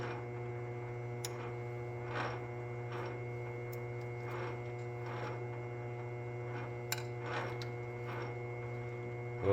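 A lathe chambering a rifle barrel turns slowly at about 90 RPM, a steady low hum with faint rhythmic swells about once a second and a few tiny ticks, quiet and without voices.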